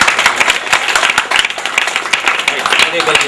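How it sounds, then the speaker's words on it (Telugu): Wedding guests clap as the veiled bride is unveiled and introduced, with sharp, uneven hand claps crackling near and loud over a continuous stream of talk and crowd voices. "చప్పట్లు"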